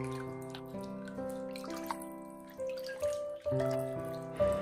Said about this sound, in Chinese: 再次用清水清洗一到两遍，直到水变为清澈。